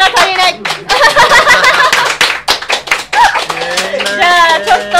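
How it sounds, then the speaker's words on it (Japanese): An audience at a Japanese radio broadcast claps in short, lively bursts, mixed with chuckles and someone talking over and between the clapping. "モノマネ他にも聞きたいという方は拍手をください。"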